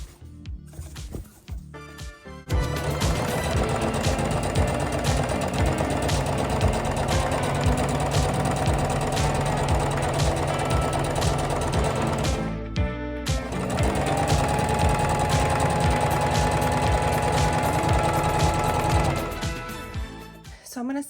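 A sewing machine gathering fabric for a dress runs in long continuous bursts, a fast mechanical whir with a brief pause midway, then stops near the end.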